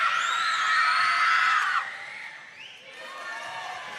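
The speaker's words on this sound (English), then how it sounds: "The crowd's starting to get loud here" Basketball crowd in a close third-quarter game between the Mustangs and the Spiders, a loud burst of screams and cheers that drops off sharply partway through, then rises again more faintly.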